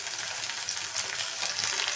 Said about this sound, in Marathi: टोमॅटो पण 3 मिनिट फ्राय करून घ्यायचा आहे